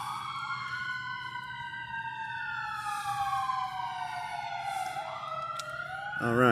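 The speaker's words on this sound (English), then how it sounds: "Oh, here come the sirens." Emergency vehicle sirens wail outdoors, with long rising and falling tones overlapping from more than one vehicle and passing at moderate distance, while a low engine rumble runs underneath.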